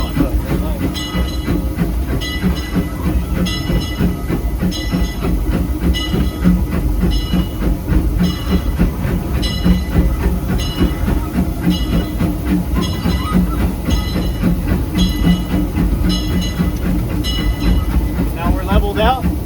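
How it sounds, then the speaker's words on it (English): A Disneyland Railroad steam locomotive, heard from a ride on its tender, chuffs in a steady rhythm with clanking rods, hissing steam and rolling clatter, loud and close throughout, as the engine eases off on level track. "you start hearing the locomotive is not going to work as hard"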